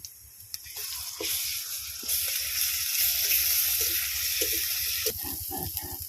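Garlic paste hitting hot oil in a pan with fried onions, a bright, steady sizzle that swells loudly after a few light clinks and crackles, then settles into a continuous hiss with faint stirring scrapes.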